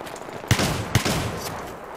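Two sharp shotgun blasts about half a second apart in the video game Battlefield 3, set over a constant backdrop of distant battle noise and gunfire.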